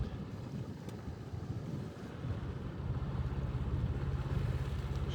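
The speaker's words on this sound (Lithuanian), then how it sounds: "Plaukiam su abiem burėm, bet ir su varikliu, nes vėjas silpnas, tai vien burio neužtenka." A sailboat under both sails with its engine running in light wind on calm sea on the way from Liepaja to Klaipeda: a steady, close engine drone with faint wind and water noise that grows slightly louder.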